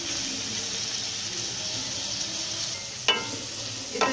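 Vegetables such as spring onion and capsicum being stirred into spaghetti in a hot pan, a steady soft sizzle with scraping spoon strokes and a couple of sharper clinks near the end.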